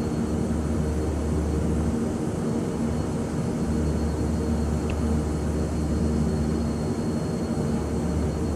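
Airliner engines in Microsoft Flight Simulator 2020 during taxi, a constant dense whine and rumble holding steady at one level throughout, without any voices.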